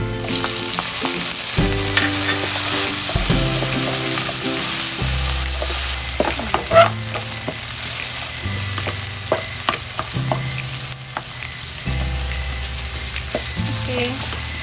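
Chopped tomatoes stir-fry in a hot pan for a bamboo shoot adobo, a loud continuous sizzle broken by repeated scraping and clanking stirs, with no talking.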